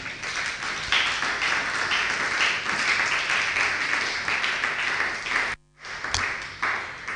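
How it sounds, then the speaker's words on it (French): A church congregation breaks into sustained applause, a dense wash of clapping that fills the room, briefly cutting out near the end before resuming. "Nous pouvons nous asseoir et nous acclamons la parole de Dieu."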